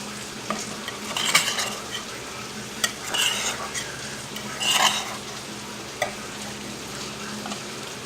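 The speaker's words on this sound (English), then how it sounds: "If you can hear the frying in the background" Soft sizzling of food frying in a pan, with occasional clinks and scraping of utensils against cookware nearby in a home kitchen.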